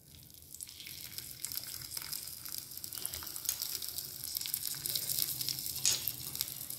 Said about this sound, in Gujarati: હા વેજીટેબલ્સ કરીએ સ્ટર ફ્રાય.